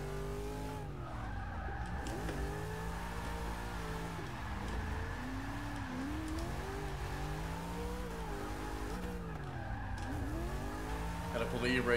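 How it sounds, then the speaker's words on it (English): A Holden Commodore VL in the Forza 6 racing game revs with a steady engine drone and rising and falling pitch sweeps as it slides through an e-brake skid, with a faint tire squeal in the background. "Gotta pull the e-brake there."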